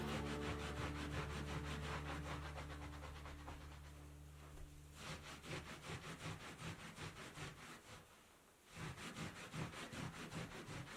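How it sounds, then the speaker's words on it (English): A rag and OxiClean scrubbed hard into a carpet stain give a close, steady run of rough rubbing strokes in a quick back-and-forth rhythm, with a low steady hum over the first half. "So basically what you're gonna do is you're just gonna start scrubbing."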